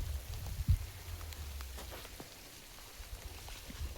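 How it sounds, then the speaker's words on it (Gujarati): Rain just beginning to fall at night, faint scattered drops tapping on surfaces over a quiet background, with one soft thump near the start. "વરસાદ ચાલુ થઈ ગયો છે"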